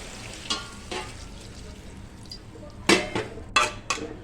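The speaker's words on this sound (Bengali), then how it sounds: "কাঁচা লঙ্কা দিয়ে দিচ্ছি। নাড়াচাড়া হোক" Green chillies frying in a pan for a vegetarian curry, with a low steady sizzle broken by several sharp scraping bursts of a spoon stirring against the pan, two faint early and a cluster of louder ones near the end.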